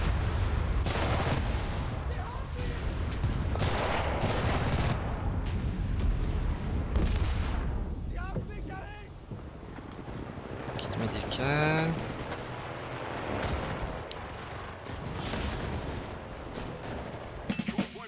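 Gunfire from a PPS submachine gun in Enlisted, set in a World War II battle in Russia, crackles in repeated bursts among other shots and explosions, with voices talking over the battle.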